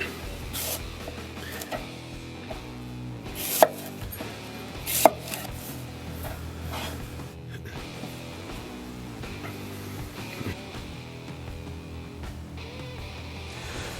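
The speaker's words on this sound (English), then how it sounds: "The next thing we're going to do is take our apple and slice it" A knife cuts an apple into quarters on a board, with a string of close chopping thuds and two sharper, louder strikes midway, no talking.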